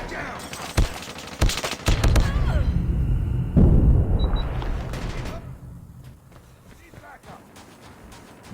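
Bursts of gunfire in Call of Duty Mobile crack in quick succession, mixed with other game effects and excited talking.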